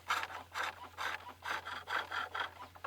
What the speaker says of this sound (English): now using the other end of the chisel, the other corner of the chisel, I'm making a rounding cut